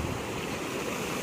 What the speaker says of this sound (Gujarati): અહીંયા જે પાણીનો આઉટલેટ છે એ બહુ ફોર્સથી પાણી જાય છે.